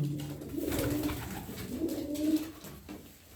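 Pigeons coo in soft, repeated throaty phrases, close by, over a low background murmur.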